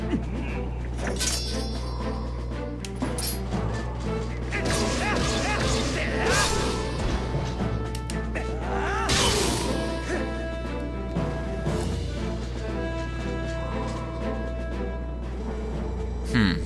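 Sword strikes and slashes from combat in The Legend of Zelda: Twilight Princess, several sharp whacks and swishes in quick succession over a steady music and game-sound bed, with some talk mixed in.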